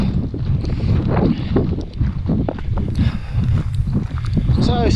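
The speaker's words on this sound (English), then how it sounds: "It's not raining, it's the wind that's blowing the mist all over us" Strong wind gusts across the misty summit of Scafell Pike, roaring and buffeting the microphone in loud, uneven surges, with voices and movement faintly mixed in.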